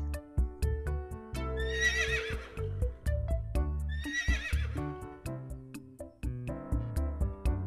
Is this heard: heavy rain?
no